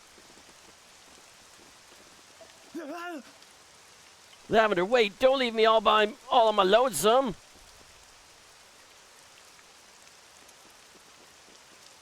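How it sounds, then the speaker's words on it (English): Gray rain falls in the game Dragon Quest VII Reimagined, a soft, steady hiss of rainfall running continuously underneath a voice that speaks briefly, then says a few more words. "The gray rain, it's back."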